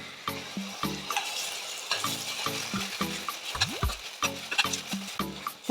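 Chopped tomatoes sauté with ginger garlic paste in a pan, a spoon stirring and scraping in repeated strokes over a continuous sizzle, close and moderately loud, with no voices.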